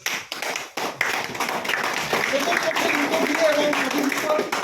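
Audience applause welcoming an award winner at an annual meet, a dense patter of clapping hands that builds and holds steady, with some voices mixed in.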